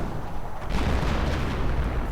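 Artillery fire in a World War II strategy game, a low rumbling barrage of distant booms that swells after a quiet start and rolls on continuously at moderate loudness.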